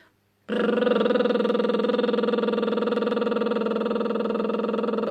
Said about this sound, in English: a lip trill sounds like this